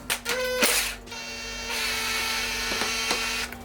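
Mechanical work on the front end of a KTM 350 XC-F dirt bike, with a steady whirring tool hum, sharp clanks and a few metallic clicks and taps close by, no talk.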